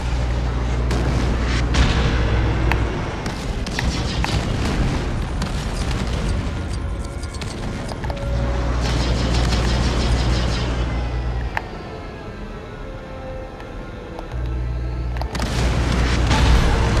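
Bomb blasts in the LEGO Star Wars Skywalker Saga video game: loud, low booms and rumbling detonations keep sounding over a steady game soundscape, with some crackling debris between them.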